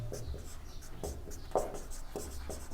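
Chalk or marker scratches in short, repeated strokes on a board during a maths lesson, faint and close, while a teacher talks quietly underneath.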